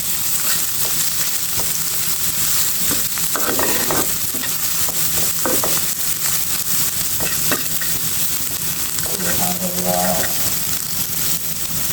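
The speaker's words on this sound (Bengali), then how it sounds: "পেঁয়াজটা আমি এই তেলে খুব সুন্দর করে ভেজে নেব।" Onion frying in mustard oil sizzles loudly and steadily while a utensil stirs and scrapes the pan in repeated strokes, close by and prominent.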